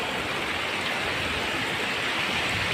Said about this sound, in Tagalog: napakaganda ng sapa